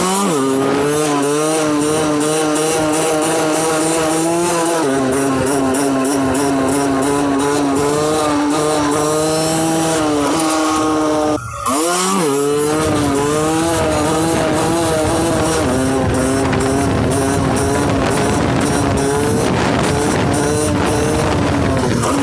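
Motorcycle engine droning loud and close as it pulls through the gears in fifth, steady revving tones rising slowly, with a brief dip near the middle before the pull resumes.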